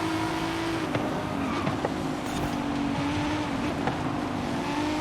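A Maserati Gran Turismo S engine drones steadily in Forza Horizon 5, held at a constant high pitch with small shifts and faint tire noise, loud and continuous throughout.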